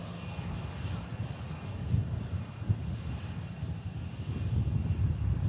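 A Loganair Dash 8 turboprop taxiing at Manchester Airport makes a low, rumbling engine drone that swells slightly as it carries on, heard at a distance with some wind noise.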